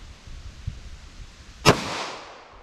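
A single sharp pistol shot from a .45 ACP firing Hornady Critical Duty ammunition over a chronograph, a loud crack with a lingering outdoor tail, after quiet background.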